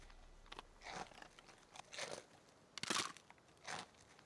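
Granny Smith's crunchy apple spice muffin is bitten and chewed close up, giving several short, crisp crunches spaced about a second apart over a quiet background.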